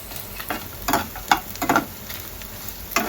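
Chicken pieces for spicy Malvani sukha chicken sizzle as they dry-roast in a pan without oil, with several sharp scraping stirs breaking through a steady crackle.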